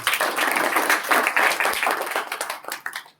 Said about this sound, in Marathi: त्यामुळे सर्वांनी तुमच्यासाठी एकदा जोरदार टाळ्या वाजवा